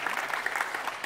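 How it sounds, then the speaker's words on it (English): Brief burst of audience applause at a university annual lecture on tax and fiscal matters, dense clapping from a seated crowd, fairly loud and alone. "Please, another round of applause."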